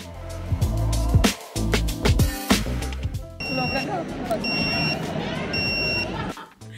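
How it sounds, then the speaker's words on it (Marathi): A restaurant order pager goes off in a food court at Sky City Mall in Borivali, giving three short, clear electronic beep bursts close by, after some clattering handling noise, with background crowd chatter and voices. "त्यांनी सांगितलं तुमची ऑर्डर आली की ते बझर वाजेल"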